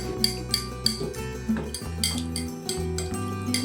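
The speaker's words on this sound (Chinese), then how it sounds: "再用打蛋器搅拌均匀" An egg whisk clinks rhythmically against a dish while it beats mooncake syrup, corn oil and lye water together, a close series of metallic taps and scrapes over a steady musical bed, without talk.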